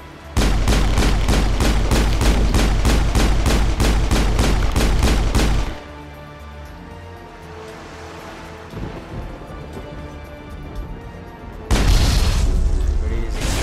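Rapid repeated explosive booms in the Mass Effect video game, a loud pounding rhythmic barrage that stops abruptly, leaving a lower rumbling ambience before another loud burst returns near the end.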